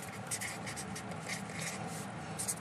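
Handwritten notes: a pen scratching steadily across paper at close range, a continuous textured rubbing with slight swells and no pauses, and no voice.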